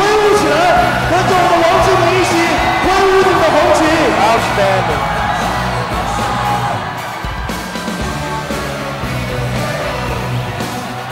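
Boxing crowd at a lightweight amateur bout cheers, yells and whoops loudly and continuously, with a commentator's voice briefly heard over the roar.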